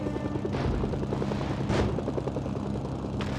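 Helicopter hovering in the video game Mercenaries during a winch operation, a steady low rotor thrum with rhythmic blade chop and a couple of faint whooshing swells, no talk.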